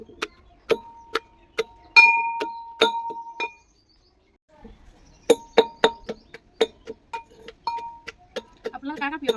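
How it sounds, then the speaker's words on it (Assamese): Sharp, repeated pounding of jujube (bogori) berries with green chillies in a mortar, a series of crisp clinking strikes at an uneven rhythm with a brief pause midway, close and fairly loud. "এতিয়া এইখিনি খুন্দি লওঁ"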